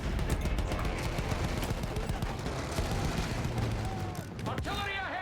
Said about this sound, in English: Artillery ahead.